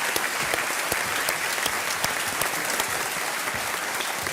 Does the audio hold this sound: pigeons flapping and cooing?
no